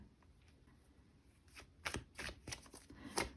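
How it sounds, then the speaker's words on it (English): Tarot cards being shuffled by hand for a monthly reading, soft riffling at first that builds into sharper, louder bursts of card slaps and flutters near the end. "let's shuffle your cards for the 2021 February"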